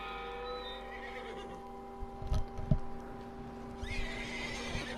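A horse in Red Dead Redemption 2 whinnies and snorts up close, with a few hoof thuds, over a steady tonal background hum.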